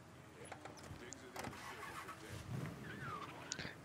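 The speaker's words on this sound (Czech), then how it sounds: "Auto samozřejmě." In the video game Mafia 3, a car engine starts with a brief crank and then settles into a low rumble, moderately quiet, with someone talking over it.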